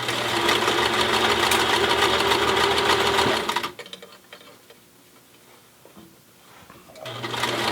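A home sewing machine top-stitches a curved cloth face mask with a wire nose piece, running fast and steady with a dense mechanical whir, pausing briefly midway, then starting up again.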